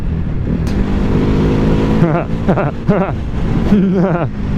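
A Ducati Hypermotard 950 in sport mode drones with a steady, close engine note that rises and falls as it revs on the road, with someone talking over it throughout.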